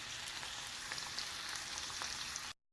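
Bacon frying on medium heat in a cast iron skillet, a steady, dense crackling sizzle with small pops that holds evenly close up, then cuts off abruptly.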